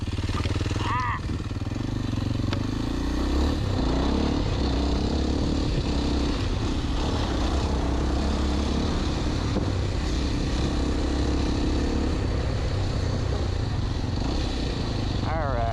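Kawasaki KLX 230 dirt bike on a trail, its single-cylinder engine droning steadily nearby throughout, with rises and falls in pitch as it rides, under continuous wind and rumble.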